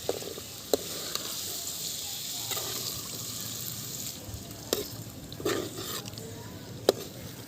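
Chicken leg pieces stirred in spiced oil, a soft continuous sizzle close by, broken by a few sharp clicks and scrapes from the spoon against the pan.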